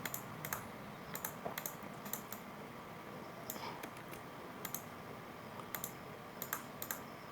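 Keys tapped on a computer keyboard while editing in Inkscape, quiet, close clicks in short irregular bursts separated by pauses, with no talk.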